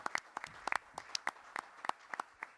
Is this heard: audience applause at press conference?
yes